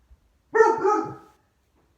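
A dog barks in a short burst of several quick, fairly loud yaps up close, then goes quiet, with a hint of another bark starting at the very end.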